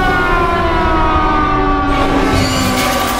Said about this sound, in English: It's a flood siren.